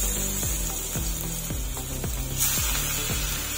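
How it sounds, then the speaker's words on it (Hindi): Fish pieces shallow frying in oil in a frying pan, a steady loud hiss and crackle throughout, with regular low thumping beats running underneath. "कुछ फिश के जो पीसेस हैं उसको हमने तेल में रख दिया है फ्राई होने के लिए"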